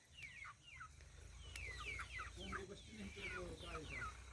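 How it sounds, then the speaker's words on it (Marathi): A flock of chickens clucks in an evening shed, overlapping calls rising and falling in a steady, busy chorus close by with a low rumble underneath. "एवढा थवा कोंबड्यांचा हा इकडे शेडमध्ये बसत असतो"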